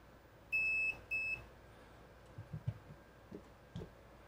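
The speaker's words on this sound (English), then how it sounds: "Here is the Breiman BM869S, which I'm gonna put into continuity mode." Brymen BM869S multimeter in continuity mode giving two short, clear electronic beeps in quick succession, followed by faint tapping and handling sounds of the probes.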